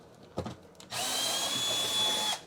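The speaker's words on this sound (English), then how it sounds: "I have an extension on my drill all the time, because I use it as a hex bit for screws like this." A power drill fitted with a hex bit extension drives a hex head screw: a couple of soft clicks, then a loud close steady whir that runs for about a second and a half before stopping.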